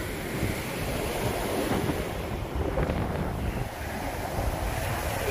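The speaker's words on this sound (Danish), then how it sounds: "Vi kan se her, der er gang i bølgerne" Rough sea waves break on the beach at Marielyst, Denmark, a continuous loud wash of surf mixed with gusty wind buffeting the microphone, with no talking.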